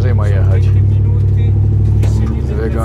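A capable car grinds along an increasingly rough, rutted dirt track near the Grand Canyon in Arizona, its steady low engine drone and cabin rumble continuous and close, with people talking over it.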